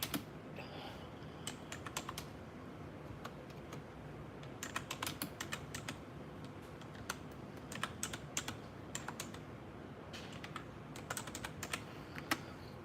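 Fast typing on a computer keyboard, bursts of sharp key clicks with short pauses, close and clear over a faint room hiss, no voices.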